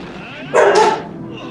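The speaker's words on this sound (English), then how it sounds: "my dog's barking." A dog gives a single short, loud bark that sounds close by, with a quiet background before and after.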